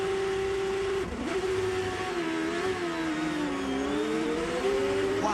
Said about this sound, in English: Let's watch from the Medizone car of Rahal